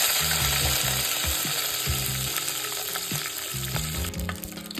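Cumin seeds and curry leaves crackle and sizzle in hot oil, a dense close frying hiss with sharp pops and stirring clatter, steady throughout and without any voice.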